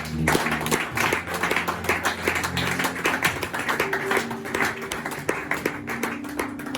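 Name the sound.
congregation applauding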